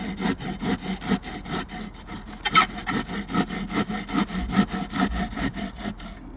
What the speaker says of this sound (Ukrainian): Беремо рапідову пилку ну і пробуємо пиляти.